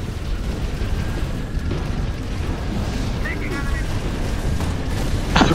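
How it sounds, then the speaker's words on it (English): Loud, continuous rumbling blasts with dense booming noise, a few bright bursts near the end, repeated explosions in the video game Halo. "There's so many explosions."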